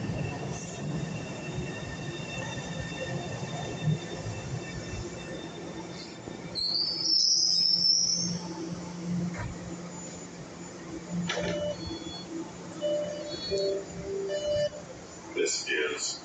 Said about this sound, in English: The destination of this train is Forest Wow.